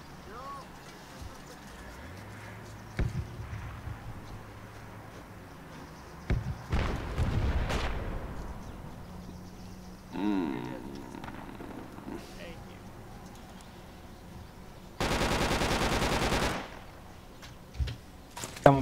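Gunfire in the Project Reality military shooter rings out as scattered shots and distant booms, with a dense sustained burst of fire late in the stretch, heard over background game ambience and occasional voice chatter.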